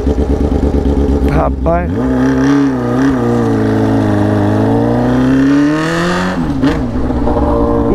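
A FAN 600R motorcycle with an open straight-pipe exhaust rides on a street, its loud, raw note rising and falling through revs and gear changes, up close, while someone speaks briefly.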